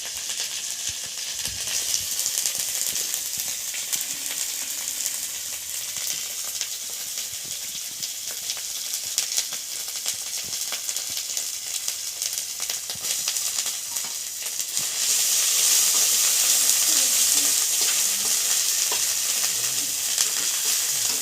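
Chopped onion fries in a pan with a continuous sizzling hiss that swells louder near the end, with no talking over it.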